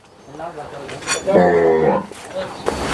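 A desi dairy cow at a small farm, one of several cows with calves, gives one drawn-out, fairly close moo in the middle of the clip, with a person speaking around it.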